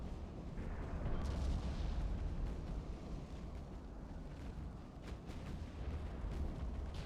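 Naval gunfire striking a ship in Ultimate Admiral: Dreadnoughts: a steady, heavy low rumble of booms and impacts with a few sharper cracks, no voices.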